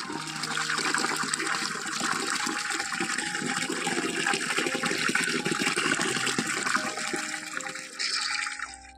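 Running water gushes steadily while dusty household items are rinsed, a loud continuous splashing flow that holds throughout and cuts off near the end.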